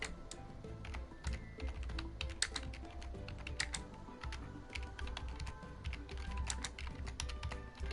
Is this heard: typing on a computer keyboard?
yes